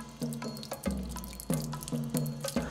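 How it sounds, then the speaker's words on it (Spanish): Water runs from a tap in a household setting, a steady close splashing stream broken by repeated knocks and clatters, with no talk over it. "Estás tirando el agua."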